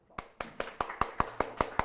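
Steady, evenly spaced claps at a university seminar opening, about five per second, crisp and fairly close, building from silence into a regular rhythm rather than a dense wash of applause.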